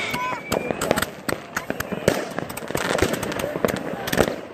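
New Year's Eve fireworks in Scharnhausen crackle and pop in dense, rapid bursts all around, with sharp bangs scattered among near and distant explosions and faint voices in the background.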